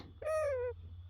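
One drawn-out caw imitating a crow, sounding nasal and tonal, rising slightly and then falling. It is heard alone and fairly faint against a low background hum.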